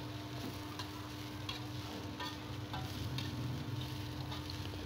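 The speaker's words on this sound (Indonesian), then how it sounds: "nah ini kita tumis sampai layu cabenya ya dan semua terbaluri minyak" Green chilies, about 500 grams, sauté in oil with garlic in a pan, producing a faint, steady sizzle with occasional soft stirring ticks and no talking.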